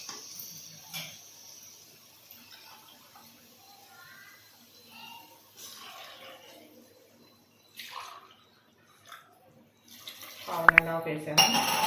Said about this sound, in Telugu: ఇందులో వాటర్ వేసుకున్నాను ఇప్పుడు.